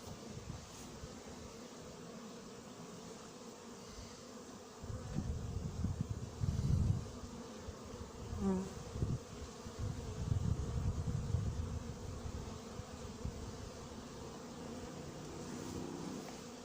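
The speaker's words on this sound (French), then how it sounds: "Le frelon qui est contre le voile, je pense que lui, il découpe l'abeille." Hornets hum and buzz close by against a 6 mm mesh anti-hornet tent set over a beehive, a steady faint drone with louder swells partway through.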